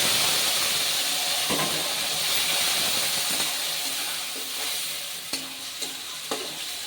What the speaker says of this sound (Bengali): দিয়ে দিচ্ছি বেটে রাখা মশলা।